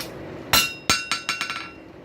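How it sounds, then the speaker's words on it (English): A blacksmith's hammer strikes an anvil while forging a stainless steel pipe tool, giving six sharp metallic rings close by, the blows coming faster and lighter toward the end. "let the impact of the weight of that hammer hit something solid, which is your anvil"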